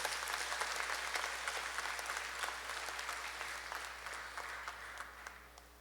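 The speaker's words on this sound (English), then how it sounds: "Let's give her a big round of applause, please." Audience applause fills a hall at a university convocation ceremony, a dense, steady wash of many hands clapping that slowly fades, with no voices over it.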